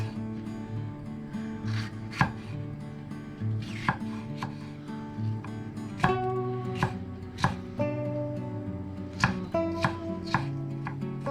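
A knife chops red pepper on a cutting board in a home kitchen, a steady run of crisp close taps with a few louder sharp knocks, no voices.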